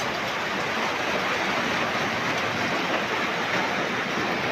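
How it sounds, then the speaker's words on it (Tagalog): Continuous heavy rain falls beside a bridge, a dense, unbroken broadband hiss and patter at steady loudness with no pauses or voices. "Walang patid na ulan."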